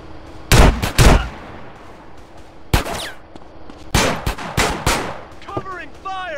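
Gunfire in GTA San Andreas during a mission: loud bursts of rapid shots in separate volleys, with quieter moments and a faint voice in between.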